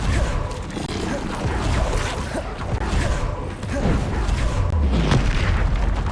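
Blasting explosions from the Bombarda spell in Hogwarts Legacy, heavy low booms that roll and overlap through dense game combat noise, with a deeper thud toward the end and no clear gaps.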